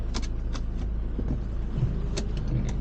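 Car interior on a short drive on a rainy day in Korea, steady low engine and road rumble with a few sharp clicks and rattles from inside the cabin, no talk.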